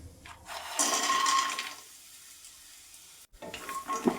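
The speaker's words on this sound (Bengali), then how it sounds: "তো এইভাবে সয়াবিনটা কিন্তু আমি ভেজে নেব" Soybean chunks dropped into hot oil for pocket paratha crackle in two bursts of bubbling sizzle separated by a quiet stretch, fairly soft and close, no talking.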